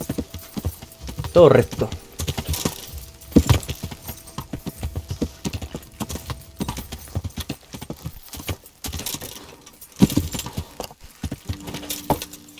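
Horse hooves clip-clopping in a video game, an uneven run of hoofbeats under someone talking casually over the gameplay.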